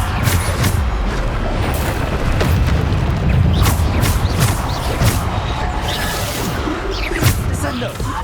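Bombarda explosion spells cast in the video game Hogwarts Legacy: several sharp blasts and crashes burst out over a constant rumbling, mechanical game soundscape.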